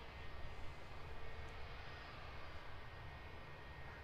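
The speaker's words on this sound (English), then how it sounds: "Glasgow is the destination for this latest EasyJet A320neo." An EasyJet Airbus A320neo jet airliner at Luton Airport produces a faint, distant steady roar, continuous and even throughout with no voices.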